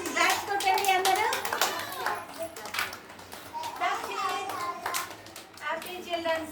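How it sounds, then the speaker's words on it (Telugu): Children clapping at a school Children's Day celebration, scattered bursts of hand claps mixed with lively kids' voices and an adult talking over them. "క్లాప్స్ కొట్టండి అందరూ."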